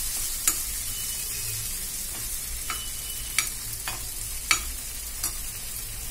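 Tomato, ginger and peanuts fry in a pan for a peanut chutney, giving a steady, soft sizzle close by. A spatula scrapes and clicks now and then, with no talking.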